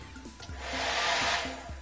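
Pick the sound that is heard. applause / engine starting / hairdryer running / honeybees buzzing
hairdryer running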